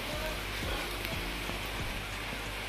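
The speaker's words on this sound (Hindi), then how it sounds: "बारिश आ चुकी है" Steady rain falls outdoors in a continuous dense hiss with a few scattered drips and taps close by, unbroken for the whole stretch.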